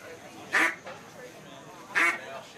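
A duck call blown to imitate a lonesome hen mallard gives two short, loud nasal quacks about a second and a half apart, with a faint softer note between them and only quiet background around them.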